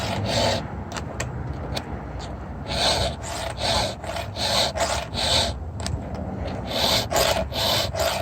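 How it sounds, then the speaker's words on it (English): A hand file scrapes the teeth of a chainsaw ripping chain in repeated rasping strokes, close and rhythmic, several strokes in a row with brief pauses between them. "I tend to file this side harder."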